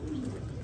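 A single brief pigeon coo, close and fairly loud, over a steady low background hum.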